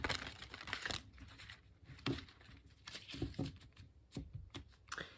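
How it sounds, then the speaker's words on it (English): Tarot cards are shuffled by hand in quick, papery riffles and soft slaps, close and quiet, with no talking. "now let me just do one more shuffle this way"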